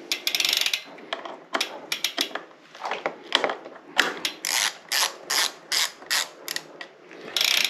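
Torque wrench ratcheting while tightening bolts on a Stages Power L power meter with a Shimano GRX 810 crankset, giving close, rapid clicking bursts in short repeated strokes with brief pauses and no voice.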